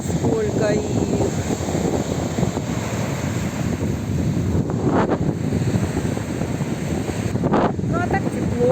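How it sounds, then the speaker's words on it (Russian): Strong wind gusts buffet the microphone at a seashore beach on a windy day, a steady loud roar with brief swells and a faint voice underneath. "у воды ветрено"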